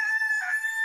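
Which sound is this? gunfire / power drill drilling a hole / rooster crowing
rooster crowing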